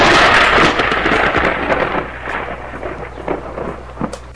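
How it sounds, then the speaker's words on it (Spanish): Thunder rolls through a children's sailor song, opening with a loud crack and rain that fade into a rumbling, crackling decay. "a los truenos les tengo un miedo horrible"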